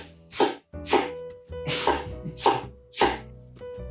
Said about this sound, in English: So I'm just dicing my onion.